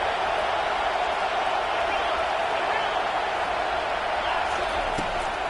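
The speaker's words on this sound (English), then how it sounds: "Listen to this crowd just shaking the girders of this place" A stadium crowd roars without pause at an Ohio State college football game. The noise is a dense, continuous wash that stays steady and loud throughout.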